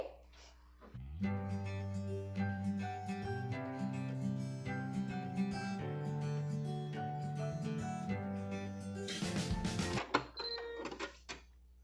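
A sewing machine runs a seam on a small fabric zip pouch with a sustained, even motor whine for about nine seconds before stopping, followed by a brief rustle.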